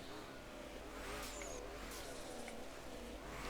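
A BMW engine revs in the Drift21 racing game, a steady mid-pitched drone rising and falling as the throttle changes, heard faintly and continuously without talk.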